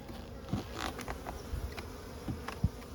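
Steady loud buzzing from a honeybee hive, a dense continuous drone with occasional louder swells as individual bees pass close by.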